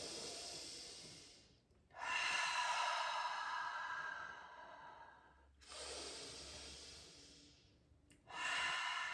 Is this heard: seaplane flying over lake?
no